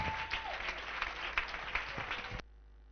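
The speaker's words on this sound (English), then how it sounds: "Clap some more, please." Church congregation at an evening service clapping together in a loud, dense burst of applause that cuts off abruptly near the end.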